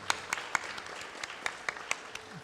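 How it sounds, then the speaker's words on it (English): Scattered hand claps from a small audience at an engagement ceremony, about nine distinct sharp claps spread unevenly over a couple of seconds, fairly quiet and slightly distant. "Another round of applause for her."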